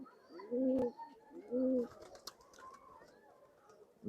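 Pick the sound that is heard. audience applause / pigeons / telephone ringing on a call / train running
pigeons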